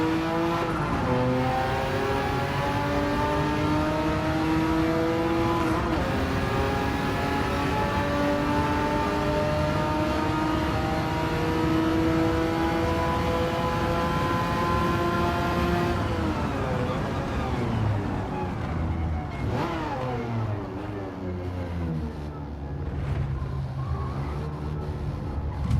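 Race car engines from a Ferrari Enzo and a Bugatti Chiron in the video game Gran Turismo 7, a sustained loud high-revving drone that climbs and shifts pitch, then drops off as the cars pass, with voices faintly underneath.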